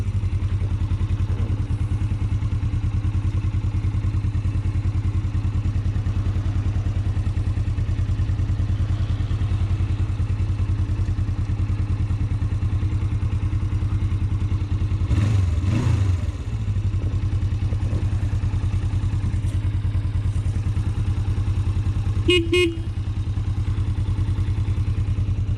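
A 1981 Suzuki GS450S motorcycle engine runs steadily with a low, continuous drone, a brief louder swell midway and a few clatters, with no one speaking.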